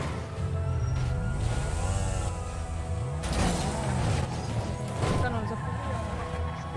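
Cars and motorbikes in a roleplay video game bank robbery chase rev and rush past with rising and falling engine tones and a couple of impact bursts, loud and continuous, with people talking throughout.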